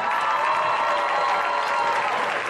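Church youth congregation applauding, a dense, steady wash of clapping from a large crowd with some cheering mixed in, holding at an even loudness throughout.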